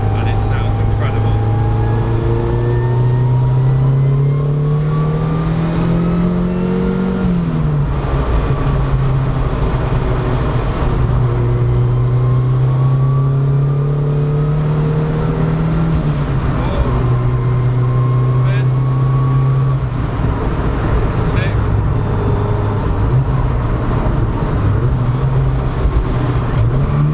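Engine of a 500bhp Audi A3 fitted with a performance gearset pulling hard through first, second and third gears, pitch climbing and dropping at each shift with a loud, continuous roar, a voice speaking over it.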